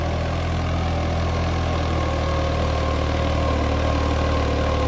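A Holland 3630 tractor engine idles continuously with a steady, loud, deep, even rumble, no voices present.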